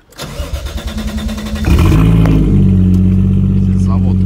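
A BMW E30 cranks with a rapid rhythmic starter churn for under two seconds, then catches and settles into a loud, steady idle up close, with voices talking over it.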